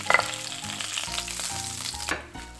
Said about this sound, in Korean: 대가리는 안쪽을 더욱 익히기 위해 기름을 숟가락으로 충분히